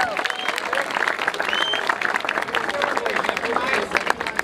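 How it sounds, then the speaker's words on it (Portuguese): Crowd applause at the opening of a Brazilian rap battle event in Barueri, a sustained busy patter of many hands clapping, with voices mixed into the noise. "Uma salva de palmas pra Soap aí também"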